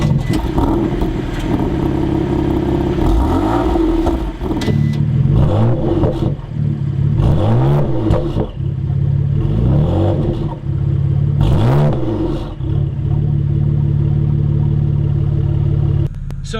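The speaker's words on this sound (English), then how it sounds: "You want to hear engine sounds, so let's give this a cold start" A Manhart MH3 550 BMW M3 sports car engine idles loudly close by on a cold start, then revs hard several times in a steady rhythm, each rev rising sharply and dropping back to idle.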